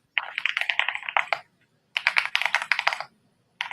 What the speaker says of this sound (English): Your keyboard is so loud. It's so loud